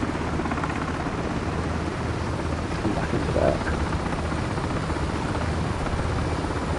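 An MH60 helicopter in flight gives a constant loud rotor and turbine roar from inside the cabin, with a brief spoken line heard over the noise.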